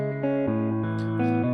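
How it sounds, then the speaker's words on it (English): Electric guitar chords played through an edge tape delay preset in FL Studio, sustained notes with a smeared, echoing wash and slight distortion, steady and close with no talking. "I actually have highlighted this edge tape delay preset right here."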